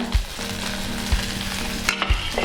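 Garlic, curry leaves and coriander sauté in a hot pan for Chettinad paruppu urundai kuzhambu, giving a steady close sizzle with a few soft thumps of stirring and no talk.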